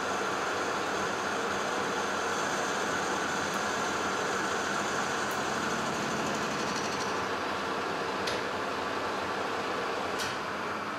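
A Colchester Master 2500 lathe runs continuously with a boring bar taking a light internal clean-up cut in a part held in a 4-jaw chuck, producing a steady, even mechanical drone with faint occasional ticks.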